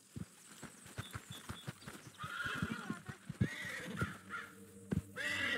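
A horse in Red Dead Redemption 2 whinnies in a rising, drawn-out neigh over steady clip-clopping hooves, with a second shorter neigh near the end, all moderately quiet.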